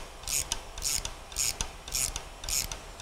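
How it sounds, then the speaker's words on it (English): Rhythmic rasping clicks of a ratcheting wrench turning an AGA valve spring compressor on a BMW N63 engine, about five evenly spaced strokes, close and clear with no talk. "While holding on to the rotator handle and turning the ratcheting wrench, you're compressing the valve spring."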